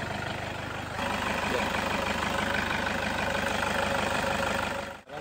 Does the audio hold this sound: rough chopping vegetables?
no